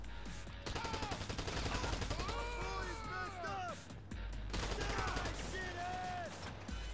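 Rapid gunfire from a video game rattles almost nonstop, automatic bursts stacked close together and fairly loud, with a player talking over the shooting.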